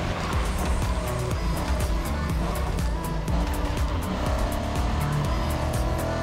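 A Bugatti races in The Crew Motorfest video game, its loud engine roaring continuously alongside repeated tire squeals and skidding, a dense, busy mix of game driving sounds throughout.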